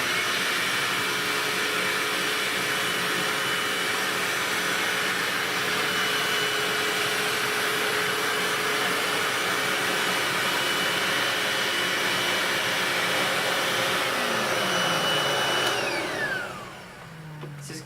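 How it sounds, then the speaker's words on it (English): Two Hoover vacuum cleaners, an S4002 and an FD22RA, run side by side at the same time, making a loud, steady, high-pitched motor whine and airflow roar. The roar holds for most of the stretch, then winds down near the end. "I'll vacuum them at the same time so that they're going at the same speed as well"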